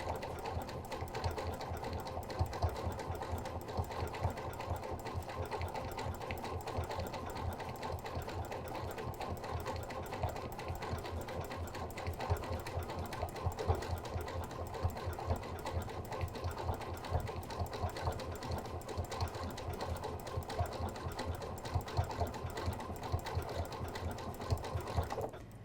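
Janome sewing machine stitching a seam with a flange foot guiding along the seam line, a steady fast mechanical whirr running continuously and evenly at close range, with no talking.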